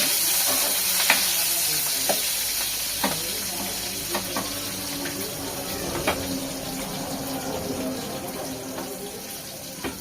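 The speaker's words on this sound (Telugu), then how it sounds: "పచ్చిమిరపకాయలు కొన్ని, ఉల్లిపాయలు కొన్ని వేసుకొని లైట్గా ఫ్రై చేసుకుంటున్నాను." Green chillies and onions frying lightly in a pan for egg biryani: continuous close hiss and sizzle, with occasional spoon taps and scrapes, and no talk.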